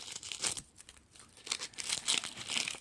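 A knife slicing through an onion gives crisp, crunchy tearing and crinkling bursts in quick succession, close and moderately loud with brief pauses between cuts.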